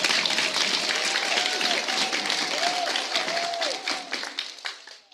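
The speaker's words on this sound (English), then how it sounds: "Congratulations with a round of applause." Audience applause at a graduation ceremony in Namibia, a dense, steady clapping from a large crowd that holds loud for several seconds, with a few voices calling out, then thins toward the end.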